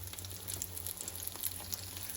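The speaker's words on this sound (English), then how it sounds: "start frying" Eggplant slices frying in a pan for eggplant parmigiana give a steady, close sizzle with fine crackling oil spatter throughout, unbroken by any voice.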